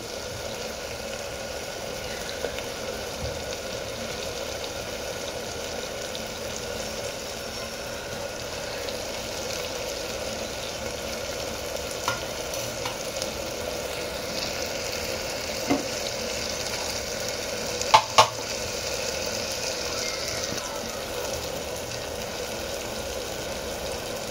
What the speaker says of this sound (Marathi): डाळ आणि टमाटे कांदे सर्व मिक्स केलेले आहे, ते व्यवस्थित भाजून घेतलेले आहे